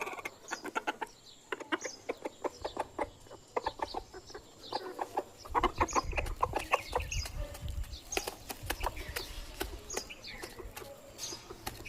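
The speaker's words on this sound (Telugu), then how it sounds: "3 పుంజులు 4 పెట్టలు ఉన్నాయి మా ఇంట్లో" Three roosters and four hens cluck repeatedly nearby in busy, overlapping bursts, with a low rumble of farmyard noise beneath.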